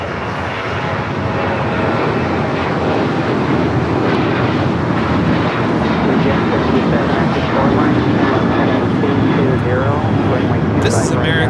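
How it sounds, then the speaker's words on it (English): An American Airlines Boeing 737-800 takes off from LAX for Chicago, its jet engines a loud, sustained roar throughout, with voices talking faintly beneath. "This is American 2743 taking off to Chicago on the 737-800."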